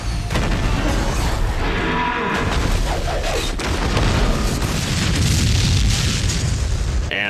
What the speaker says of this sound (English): the plane explosion that sets this entire thing off was obviously done with miniatures